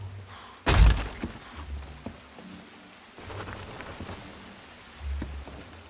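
A rope is cut aboard a ship in Sea of Thieves: one sharp, heavy thunk, then a few softer thumps over a rain-like hiss.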